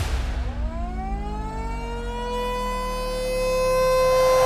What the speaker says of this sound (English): The wailing of the siren will ring out.